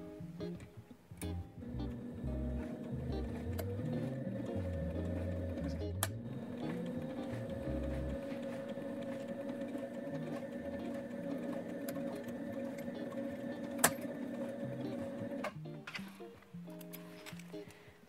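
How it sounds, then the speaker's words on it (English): A sewing machine whirs steadily as it stitches a line through fabric, sewing a zipper, running for about fifteen seconds before stopping with a few soft clicks. "we're going to take it under the sewing machine foot, and we're going to sew a line of stitches"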